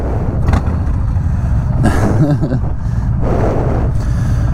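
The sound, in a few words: Harley-Davidson Street Bob 107 motorcycle riding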